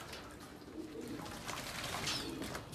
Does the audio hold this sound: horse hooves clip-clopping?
no